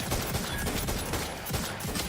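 Rapid hip-fired gunfire in a video game, a dense continuous burst of shots, loud and close, with no talk over it.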